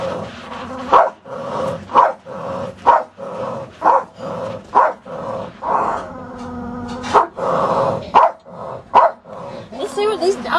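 Dogs barking close by in loud, evenly spaced barks about once a second, with a few whimpering and yipping sounds mixed in toward the end.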